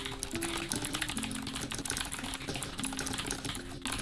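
Rapid keystrokes clatter on a mechanical keyboard during a typing test, a quick continuous run of close, crisp clicks with no talking.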